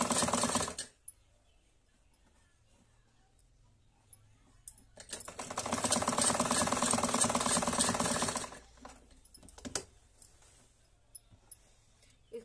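A sewing machine stitches a band-collar kurti, first with a short whirring run, then a longer steady burst of rapid needle chatter lasting several seconds, followed by a few light clicks and pauses.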